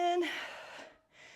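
A single quick, audible inhale during a full-body midlife workout, breathy and close, followed by a brief softer exhale.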